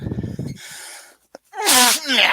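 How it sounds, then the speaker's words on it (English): A single person sneezes up close: a sharp inhaled build-up after a brief spoken lead-in, a short catch, then a loud explosive sneeze with a trailing exhale. "Hold on, I gotta sneeze."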